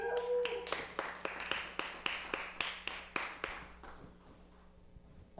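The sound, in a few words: audience applause for a guest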